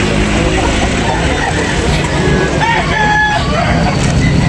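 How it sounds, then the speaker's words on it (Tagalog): Several roosters crow loudly over a noisy chicken market background, with chickens clucking and a voice talking faintly nearby. "Dami yung manok."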